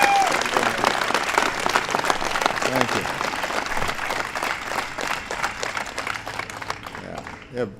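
Sustained applause and cheering from a large crowd at a White House ceremony honoring the Super Bowl champion Denver Broncos, greeting a player, steady and loud throughout with a brief voice near the end.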